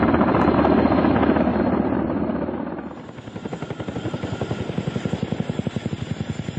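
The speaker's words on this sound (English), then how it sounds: "Helicopters moved tubes and houses." A Soviet Mi-6 helicopter's rotor chops loudly and steadily, its engine roar thinning into a distinct rapid thudding beat partway through.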